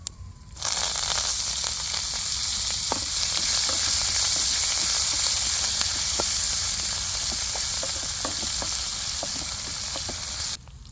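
Loud continuous sizzling of tempering spices hitting hot oil, crackling and popping steadily for several seconds, close up with no talking.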